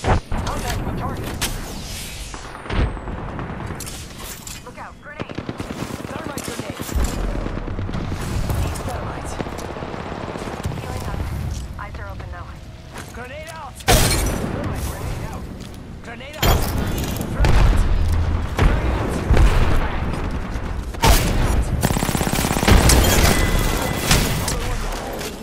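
Gunfire rattles through an Apex Legends match in repeated bursts and heavy booms, loud and dense for most of the stretch, with brief lulls and a game voice speaking over parts of it.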